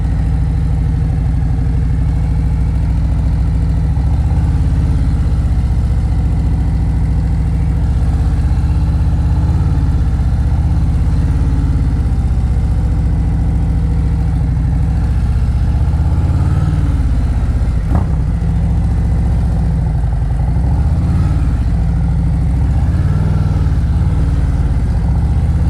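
A motorcycle engine runs steadily at low idle-like revs through slow-speed riding practice, a continuous low rumble with slight throttle swells, no talk.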